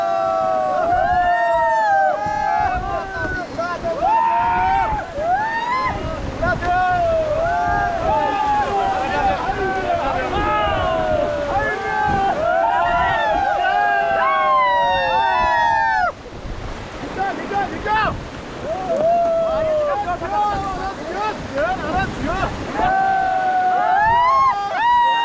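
River raft in rapids in Jammu and Kashmir, with loud continuous rushing and splashing whitewater throughout and excited voices shouting over it.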